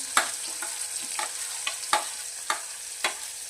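Carrots tossed and stir-fried in a hot pan for homemade wheat noodles, a soft continuous sizzle punctuated by about seven sharp spatula scrapes and knocks at an irregular pace, close by with no talking.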